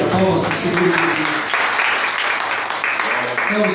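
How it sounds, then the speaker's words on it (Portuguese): A church congregation applauds during a service, a dense, steady wash of clapping that lasts the whole moment, loud and close, with voices speaking over it. "Palmas para o Senhor Jesus."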